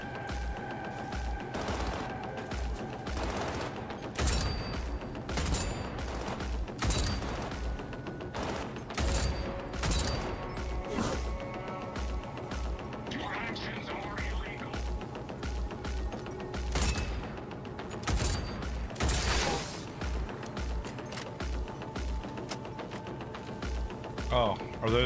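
Turret gunfire in Cyberpunk 2077, with rapid repeated shots and sharp cracks rattling through a busy combat scene over a steady low rumble, while voices speak intermittently over the noise.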